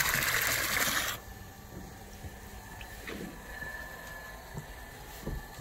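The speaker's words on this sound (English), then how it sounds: "So you can just kind of leave it in there, pumping water back into the pool." A winter pool pump pushes water back into a backyard swimming pool, heard first as a loud rushing gush for about a second, then settling into a steady low hum with faint splashes and occasional knocks nearby.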